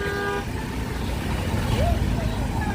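A heavy traffic jam at Karjat Charphata, where a brief car horn toot sounds at the start over a steady rumble of idling vehicles, with a person talking throughout.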